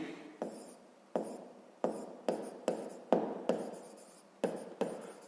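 Chalk or pen strokes scratch out a math solution in a steady series of about ten short, crisp bursts with brief pauses between, close and fairly quiet, with no voices.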